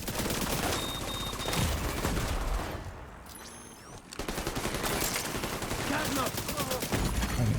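Video game gunfire, including sniper shots, comes as loud, rapid volleys of cracking shots. A short quieter gap falls in the middle before the dense firing resumes.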